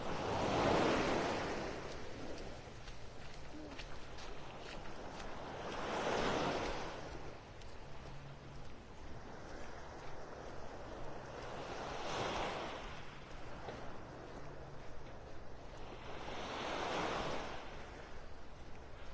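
Ocean surf rolls onto Vanderbilt Beach in North Naples, Florida, with four slow waves breaking and washing up at regular intervals, soft and moderately distant, under light wind and no voices.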